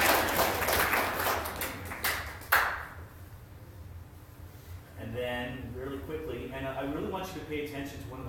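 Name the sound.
audience clapping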